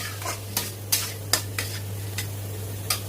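Chillies fry in fish oil over a lowered flame, a soft sizzle punctuated by about seven quick spatula scrapes against the pan at an uneven rhythm, over a low steady hum.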